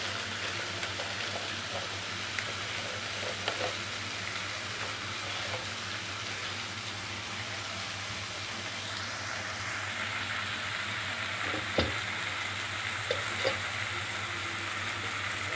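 Onions sauté in a pan for a chicken gravy, a continuous soft sizzling hiss over a low steady hum, with a few faint clicks of stirring and no one talking.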